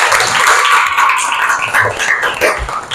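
A classroom group claps at the end of a Catholic religion lesson, a brisk, uneven patter of many hands lasting a few seconds, close and fairly loud.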